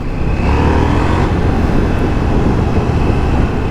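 A KTM 790 Duke motorcycle, A2 restricted, pulls hard in a short drag, its engine a loud, dense, sustained roar close by with no talking over it.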